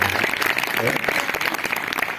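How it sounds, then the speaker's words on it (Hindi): Applause from the audience at a Ram Katha religious gathering in a village in Madhya Pradesh, India: dense, steady clapping from many hands, fairly close, lasting a couple of seconds with voices mixed in. "प्रसाद जी बहुत दिनों से लगाते हैं फेरी, इनके लिए एक ताली जरूर हो जाएगा।"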